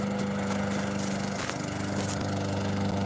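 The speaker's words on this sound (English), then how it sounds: "She's mowing her lawn." A neighbour's lawn mower engine drones continuously at a suburban house, a steady buzzing hum with a low fixed pitch, moderately close and running alone without talk.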